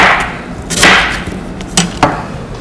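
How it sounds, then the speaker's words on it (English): A knife cubes fruit on a cutting board in a few separate, firm chops, close and fairly loud, with short pauses between strikes. "Now we're going to cube it."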